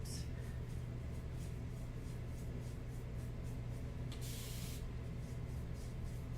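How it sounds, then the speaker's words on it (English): A spray bottle mists water onto a canvas board for mixed-media watercolor and acrylic painting, giving repeated soft hissing pumps in a steady rhythm and one longer, louder burst near the end. "If I need to, I'll spray more."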